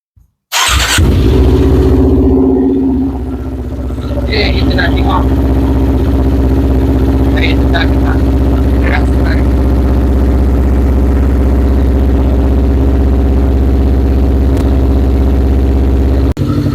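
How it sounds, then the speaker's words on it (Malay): A Kawasaki Ninja 250 motorcycle engine cranks and catches, then settles into a steady, loud idle that runs on continuously. "kita pun startlah motor"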